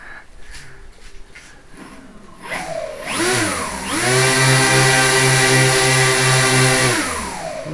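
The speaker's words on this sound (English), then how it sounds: "Let's stand behind it, give it a rev" A B-17 bomber engine revs up, rising in pitch and then holding a loud, steady, harmonic-rich drone for several seconds before it starts to ease off.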